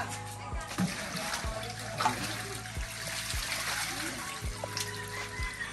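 Water splashes and trickles out of a container holding freshly caught mudfish, a steady wet pouring with occasional sloshes, under a low engine-like hum with regular thumps.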